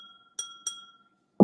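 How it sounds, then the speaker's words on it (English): A Glencairn whisky glass is clicked twice, each tap giving a clear, ringing chime that hangs briefly, followed by a duller knock at the end. "You can get a different pitch depending on where you're clicking on the glass."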